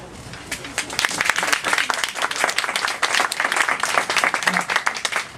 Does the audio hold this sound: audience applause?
yes